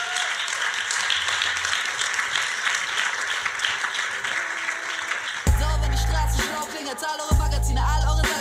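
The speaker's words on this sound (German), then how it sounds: "Applaus für Ebbo" Studio audience applause on a German talk show as a guest is welcomed, a steady wash of clapping that continues throughout, with heavy music beats cutting in over the second half.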